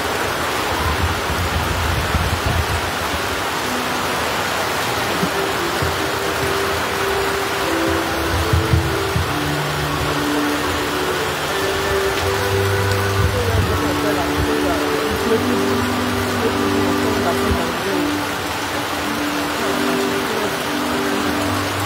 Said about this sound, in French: La pluie, c'est une pluie torrentielle